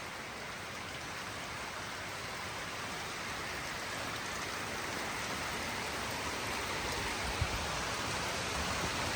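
Steady rain pours down during a road trip in Azerbaijan, a dense, even hiss of drops on surfaces that holds at the same level throughout with no voices.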